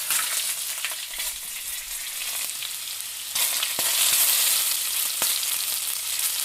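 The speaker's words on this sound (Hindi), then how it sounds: "आधी प्याली ऑयल डाल दिया है और एक प्याज जो है स्लाइस किया हुआ वो मैंने डाल दिया है ऑयल गर्म होने पर" Sliced onion frying in half a cup of hot oil in a pan on an outdoor wood fire, a steady, close crackling sizzle with occasional sharper pops and stirring sounds; no talking.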